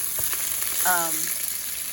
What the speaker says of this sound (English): Here, I'm just frying up a couple of hamburgers